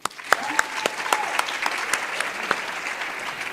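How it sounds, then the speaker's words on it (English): Audience applause at a closing session of a conference announcing national commitments, a steady patter of many hands clapping with a few sharper claps standing out, fairly close and sustained. "Let's clap for Syria."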